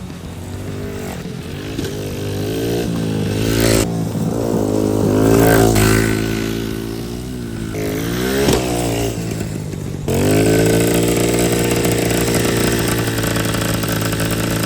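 A Honda Z50 minibike engine runs close by, loud and buzzy, idling and revving repeatedly with rising and falling pitch, then settling into a steady high idle.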